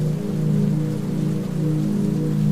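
Steady rain falling on a surface, a dense continuous patter of drops that stays even and close throughout with no other sounds.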